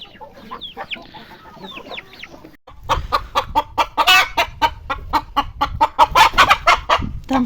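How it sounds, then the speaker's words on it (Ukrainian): Hens cluck in quick, loud bursts close by, with rooster calls among them, after a quieter opening of softer bird chatter. "Ось красивий півень димчастий ходить. Курочка красива."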